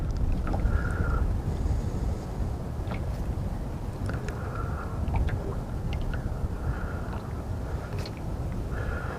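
Wind blows outdoors on a fishing outing in early March, a steady low buffeting roar across the microphone. Faint, thin tonal chirps surface now and then above it.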